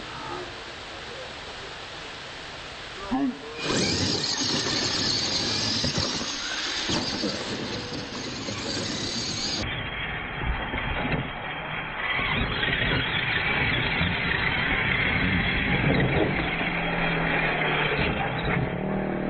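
Remote control cars racing, with a sudden loud, sustained motor roar and rushing noise after a quiet start, staying dense and close to the end.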